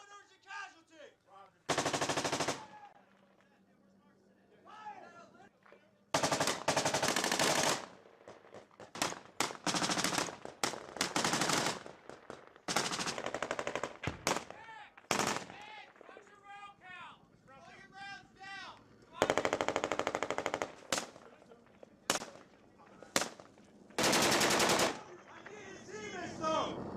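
Heavy gunfire from an insurgent firing out of a two-story building in Sangin, Afghanistan, with loud bursts of machine-gun and rifle shots in repeated blasts, shouted radio-style talk between volleys.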